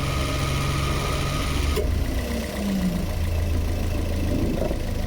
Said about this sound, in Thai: ตอนนี้เป็นเสียงเครื่องยนต์